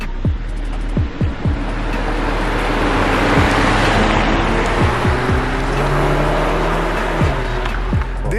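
A 2021 Jaguar XE SE petrol automatic with a 2-liter turbocharged four-cylinder Ingenium engine drives on the road, giving a loud, steady hum of engine, tire and wind noise with a few brief thumps.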